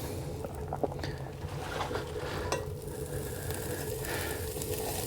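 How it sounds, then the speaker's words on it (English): Pizza sizzles on top of a hot wood stove, a steady close crackling hiss with faint scraping and clinking from a utensil, no talking. "Yep, it's already sizzling."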